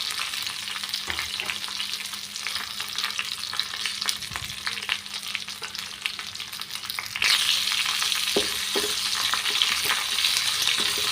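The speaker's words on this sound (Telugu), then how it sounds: "వెల్లుల్లిపాయలు బాగా దోరగా వేయించుకున్నానండి. దాని తర్వాత ఎండుమిర్చి, కరివేపాకు, పోపులు అన్నీ వేసుకున్నానండి." Garlic, dried red chillies and curry leaves fry in hot oil with a steady bright sizzle and scattered clinks of stirring, growing louder and hissier partway through.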